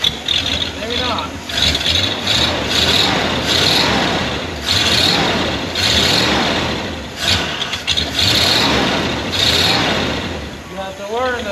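A 1979 Ford truck engine, a barn find under rescue, is throttled repeatedly in rough surging revs that rise and fall, loud and close, with people talking over the noise.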